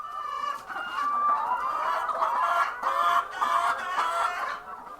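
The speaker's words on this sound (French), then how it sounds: "Gafarou Bara ramasse fièrement des œufs de poule pondeuse dans sa ferme" Laying hens on a poultry farm in the Sahel cluck and cackle loudly and continuously, a close, busy chorus of overlapping calls.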